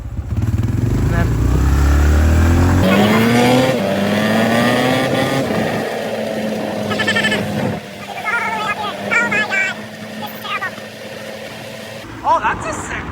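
A truck at a pit bike event roars past nearby with a loud rising rev that fades away, while excited voices talk over it toward the end.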